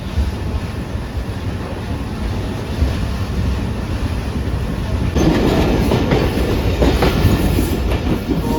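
Shah Latif Express passenger train running at speed, a steady loud rumble of wheels on rails with rhythmic clickety-clack that grows louder and harsher partway through, no voices.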